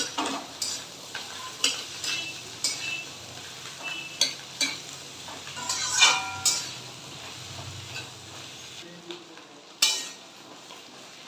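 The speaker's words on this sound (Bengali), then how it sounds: "আলু আর ডিম একসাথে ভাজা হচ্ছে" Potatoes and fish roe sizzle together in a frying pan while being stirred, a steady crackle broken by repeated scraping and stirring strokes and light clinks of a utensil, with no voices.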